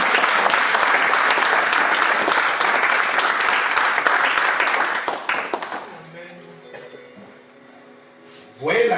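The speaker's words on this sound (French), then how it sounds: "Est-ce qu'on peut acclamer les rois des rois?" A church congregation in Paris applauds loudly and steadily for several seconds, dense clapping that fades out into a quiet hum before a voice returns at the end.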